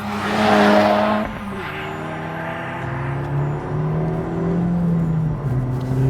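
A 2024 Acura Integra Type S on the move, its engine note rising and shifting through steady gear changes under road and wind noise, heard from inside the car with no talk.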